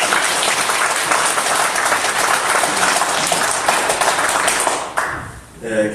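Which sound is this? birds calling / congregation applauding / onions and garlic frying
congregation applauding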